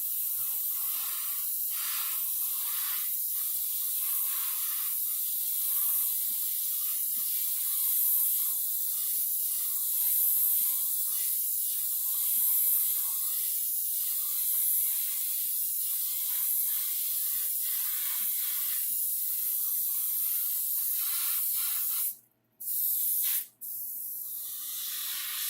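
An airbrush sprays 2K primer in a steady, close hiss that carries on continuously with slight swells, then cuts off briefly twice near the end.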